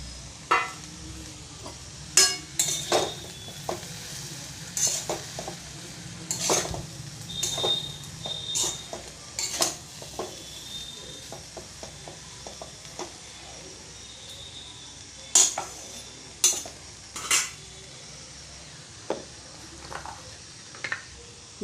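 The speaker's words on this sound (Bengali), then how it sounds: "এবারে সবগুলো একসাথে নাড়তে থাকবো।" A spatula tosses and stirs egg chow ingredients in a pan, making scattered sharp metallic clinks and taps at an uneven pace over a faint background hum, with no voices.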